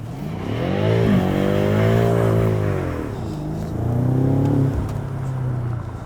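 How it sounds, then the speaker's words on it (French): A BMW M5 with a V10 engine revs hard while its wheels spin, the engine note swelling and falling in two long, loud sweeps close by, with no talk over it. "la voiture regarde tu vois elle cherche pas le sol en fait, elle cherche que à patiner en fait"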